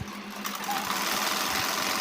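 A sewing machine runs steadily, stitching a pocket on a pair of ladies' pants, its close, continuous mechanical whir holding a fairly even rhythm throughout.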